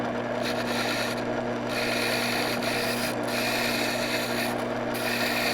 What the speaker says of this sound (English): as the wheel spins, you'll be able to see through it clearly and see the cutting edge being sharpened